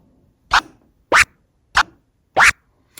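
Four short, sharp scratch chirps spaced evenly apart, each cut off crisply, with silence between them.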